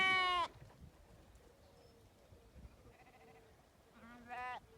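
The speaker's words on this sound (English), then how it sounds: "Patty, Casper, why are you two in with the lambs?" Sheep bleat in a pen where rams have got in with the lambs, one loud close bleat at the start and another near the end, with fainter farmyard sounds between.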